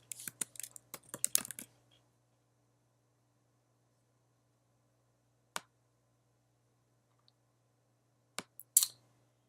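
Typing on a computer keyboard, a quick burst of close, soft key clicks, then a long silence broken by a few isolated taps and a final short cluster.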